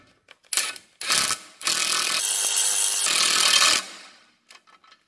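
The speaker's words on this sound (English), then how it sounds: "put it on our impact gun, put it on the second setting" An impact gun tightens a sway bar link on a VW Jetta in a repair shop. It fires several short rattling bursts and then one longer, louder hammering run before it stops, with faint clicks afterward.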